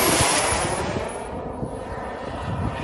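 A radio-controlled turbine-jet model airplane roars past on a flyby, a loud, continuous broadband jet whoosh that swells and fades slightly without any voices.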